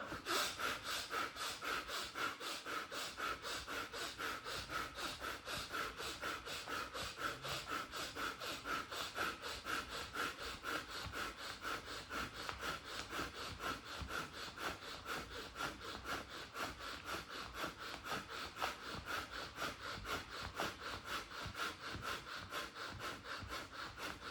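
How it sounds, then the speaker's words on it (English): Sides of the hands rubbed briskly together during a yoga breathing exercise, a faint, continuous rhythmic swishing friction that keeps an even pace throughout, with soft breathing underneath. "Now rub your sides of your hands as you breathe in and out."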